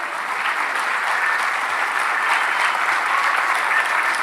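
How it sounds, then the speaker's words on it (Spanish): Sustained applause from a large concert audience for an orchestra, filling the hall, loud and even throughout without any speech. "Que se escuche fuerte ese aplauso para la Orquesta Filarmónica del Litoral"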